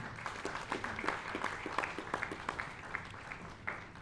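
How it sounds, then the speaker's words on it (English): Audience applause at a Miss World press conference, a fairly quiet spatter of individual claps rising and thinning out over a few seconds, heard at some distance with a faint murmur of voices. "So I will ask you to give a big, big round of applause."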